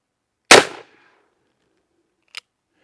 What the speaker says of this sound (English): 10 millimeter buffalo bore, 220 grain out of the Cimarron Bad Boy